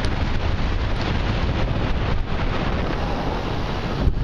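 Wind buffets the microphone during a bike ride, a loud continuous rough roar that never lets up.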